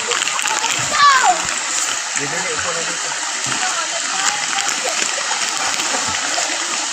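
Children dive and jump into a river in Sogod, Pandan, Southern Leyte, and a close splash lands amid steady flowing water while kids chatter and shout throughout.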